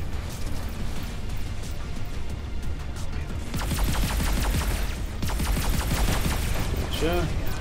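Spaceship weapons and missiles fire in the video game Everspace 2 as a dense, continuous barrage of rapid shots and blasts, loud and unbroken, with a rising electronic tone near the end.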